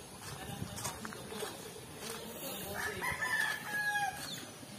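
Roosters kept as fighting cocks crow from a little way off on a farmyard, with several drawn-out calls overlapping clucking and yard noise while people talk nearby.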